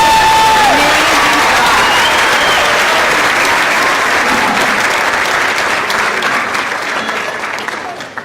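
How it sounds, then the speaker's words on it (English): Loud, sustained audience applause fills a school winter concert hall after an elementary senior orchestra performance, steady clapping from a large crowd that gradually thins and fades toward the end. "Let's just give them one more round of applause."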